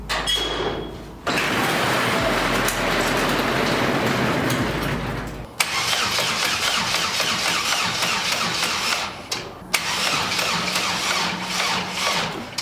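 A Chevrolet Cruze 1.8 turbo with a half-dead battery cranks loudly and close in three long bursts separated by brief pauses, a steady churning starter-motor whir.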